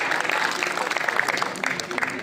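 Applause from an audience at an All India Mushaira poetry gathering, welcoming a guest; a dense, steady patter of claps with voices faintly mixed in, lasting a couple of seconds.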